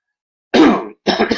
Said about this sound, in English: Sorry, I apologize for the coughing.